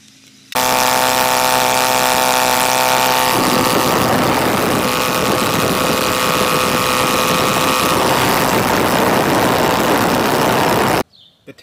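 A DLE-222 RC aircraft gasoline engine, recently repaired for a fuel leak, starts and then drones steadily at idle for about ten seconds, loud and close with a buzzy exhaust note, before cutting off abruptly.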